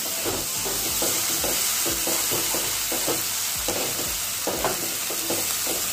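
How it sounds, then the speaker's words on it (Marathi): Masala roasting in oil in a pan for mutton sukkha, with a loud continuous sizzle and a regular rhythm of spatula stirs and scrapes throughout, no voices. "हा मसाला थोडस तेल सुटेपर्यंत भाजून घ्यायचा"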